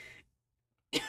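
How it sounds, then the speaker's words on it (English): One short, close throat clearing, a harsh burst after a near-silent gap, with a brief trailing rasp before the sound cuts off. "Try to clear my throat before we continue."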